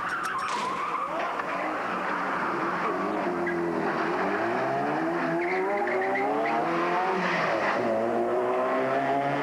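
A speeding drift car skids close to spectators, its tires squealing loud and continuous with wavering pitch over a roaring engine for several seconds.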